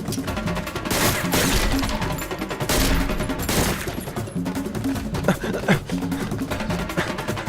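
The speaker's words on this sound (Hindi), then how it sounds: "लगता है गोली चलानी पड़ेगी" Dense bursts of gunfire crackle and thump loudly over a busy, music-like background, with a few sharper cracks standing out near the end.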